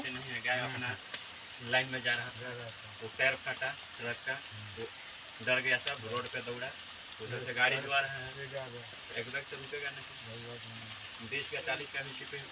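Boiled potato aloo bondas frying in hot oil, a steady hiss and crackle running beneath someone talking throughout.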